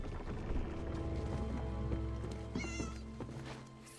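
A cat meows in a video game, a short rising-and-falling call near the end, heard over steady background music and ambient game sound.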